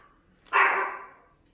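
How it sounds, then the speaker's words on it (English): A single sharp, close bark from a pet dog indoors, one loud burst that fades quickly into quiet. "It's my dog."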